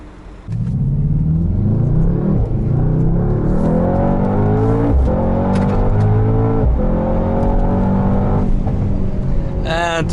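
Inside a 2019 Mercedes-AMG GT 63 S 4-Door Coupe 4Matic+ at speed, the engine rumbles loudly and continuously, its pitch rising and falling through several gear changes with no talk over it.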